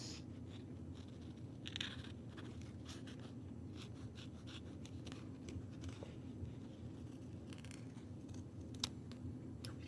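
Scissors snip through a piece of craft material for a fairy resin tray, faint, close crisp cuts at irregular intervals over a quiet low room hum.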